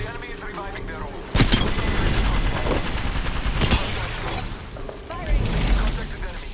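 Gunfire in the video game Apex Legends, a loud burst of shots breaking in sharply and carrying on as a dense, busy fusillade with a second surge near the end, with game voice lines mixed in.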